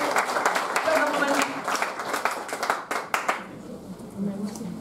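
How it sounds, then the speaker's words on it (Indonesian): A church congregation at an Easter service claps hands, a run of sharp overlapping claps for about three seconds that then fades out, with a voice speaking over it. "Tepuk tangan juga buat kita."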